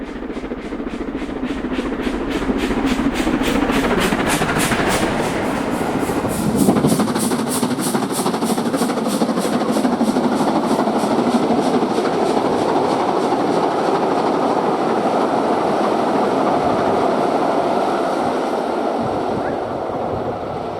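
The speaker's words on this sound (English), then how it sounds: "Duchess of Sutherland is in excellent form as she climbs away from Blatchford Viaduct" Steam locomotive Duchess of Sutherland climbs away from Blatchford Viaduct, its exhaust beats loud and rapid over a continuous roar of working steam, with wheels and carriages rumbling steadily throughout.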